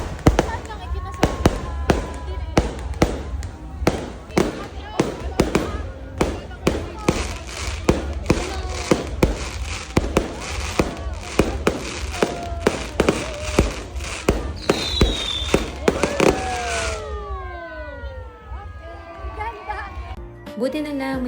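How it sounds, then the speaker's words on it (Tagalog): Fireworks at a wedding celebration crackle and bang in a rapid, dense barrage of loud close bursts, with whistling rockets rising near the end as people talk and react underneath. "manonood kami ng fireworks"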